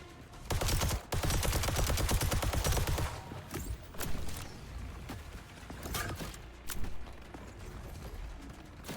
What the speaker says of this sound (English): He shot one time with the shotgun shot